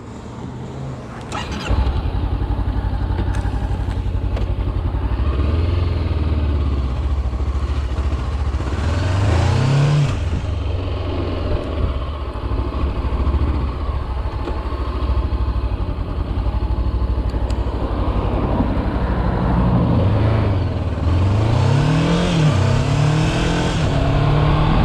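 Honda CB500X motorcycle cruising on a European road at around 130 km/h, a loud steady engine drone with wind rush and two rising rev sweeps as the rider shifts and accelerates, no talking.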